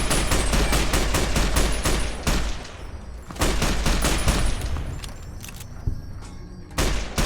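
A player's new gun in a video game fires loud, rapid automatic bursts up close. The bursts break off briefly, then resume with scattered single shots and a final burst.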